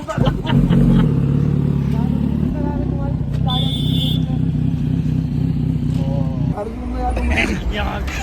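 A Kawasaki ZX-10R superbike with an aftermarket Arrow exhaust idles and rumbles loudly nearby, its deep steady drone rising in a few revs, while people talk over it.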